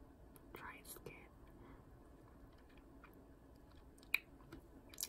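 Soft close whispering with quiet gum chewing, faint wet mouth clicks and one sharp tick near the end, very low in level and intimate.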